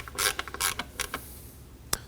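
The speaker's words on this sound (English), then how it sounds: "Now we can run through and tighten down our three 10mm." A ratchet wrench tightens three 10mm bolts on the alternator covers of a 2003-2006 Subaru Baja, giving rapid close-up clicking bursts in short runs with brief pauses, then one sharp final click.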